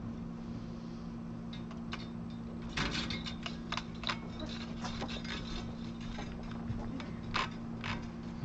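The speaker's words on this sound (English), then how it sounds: "I'm just going to loosen all of the machine heads so that I've got some room to move all of the strings." Machine heads on a Parker Fly guitar are loosened, giving a run of small dry clicks and ticks at close range over a steady low background hum, with no talking.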